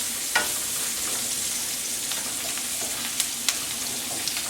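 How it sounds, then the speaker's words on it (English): Onions fry in a pot ahead of a roux for creamy pork chops with mushroom and bacon, a steady soft sizzle with a few sharp utensil clicks and scrapes scattered through. "But I want to have cooked the onions first."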